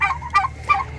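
A pet turkey in a simple backyard pen planted with a few plants and a banana tree calls up close, three quick nasal honking gobbles in a row, loud and unaccompanied.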